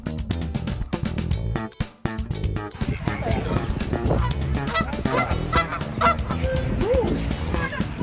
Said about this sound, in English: Spotted some of the famous Disneyland ducks.